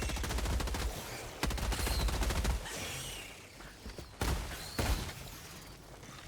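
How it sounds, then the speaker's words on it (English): A Viper Commando weapon in Helldivers 2 fires in rapid, loud bursts up close, with short pauses between bursts and scattered shots near the end. "the weapon shoots really freaking fast"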